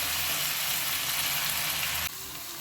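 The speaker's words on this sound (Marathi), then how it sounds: "दोन मिनिट आपण ही छान परतून घेणार आहोत" Fresh coriander sautés in a hot pan for red chili thecha, a dense, even sizzle that drops suddenly in level near the end, heard close with no voices.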